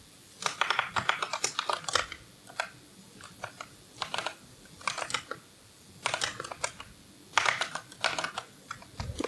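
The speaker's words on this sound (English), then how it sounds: "I type" Rapid, uneven bursts of clicky keystrokes as someone types C# code on a computer keyboard, close and clear with short pauses between flurries and no voices.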